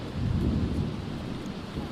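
Thunder rumbling with steady rain in The Sims 4, a continuous low roll and hiss of the storm heard alone, fairly loud and unbroken throughout.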